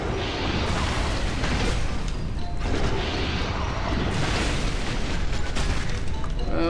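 A loud, sustained explosion roars in Dark Souls, a dense rumbling blast that swells and holds for several seconds.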